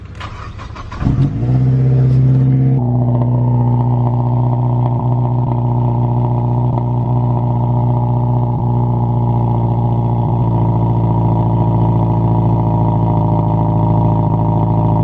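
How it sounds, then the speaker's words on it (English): Turbocharged Mazda MPS with a tune and 3-inch catless downpipe cold-starts with a brief cranking clatter, then a loud, steady high idle that drones on unbroken and close. "once you get a tune and you got a 3-inch catless downpipe, you got to get that cold start"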